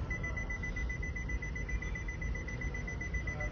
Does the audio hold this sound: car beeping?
yes